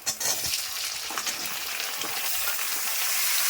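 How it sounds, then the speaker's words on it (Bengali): Chopped vegetables hit hot oil with fried onions, giving a strong continuous sizzle that swells slightly over a few seconds, with faint stirring at the start. "আমার পেঁয়াজ ভাজা হয়ে গেছে, আমি এখন সবজিগুলি কাটা সবজি দিয়ে দিচ্ছি।"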